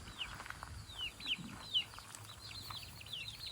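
Free-range village chickens and eight-day-old chicks in a covered coop, heard as a steady stream of high peeping chirps with soft clucks beneath, close by.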